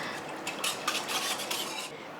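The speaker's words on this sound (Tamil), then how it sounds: "கை விடாமல் நல்லா கலந்து விட்டுக்கிட்டே இருங்க, இல்லைன்னா ஒன்று சேர்ந்து அடி பிடிச்சிக்கும்" A spoon scrapes and rasps repeatedly against a metal pan while a mixture is stirred, steady and close, with no voices.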